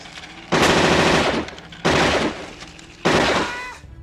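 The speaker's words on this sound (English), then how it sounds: "we get our first glimpse of RoboCop in action at a police station shooting range, where his Auto 9 pistol clearly makes him stand out amongst his colleagues." RoboCop's Auto 9 pistol fires on a police station shooting range in the film, three loud bursts of rapid shots separated by brief pauses.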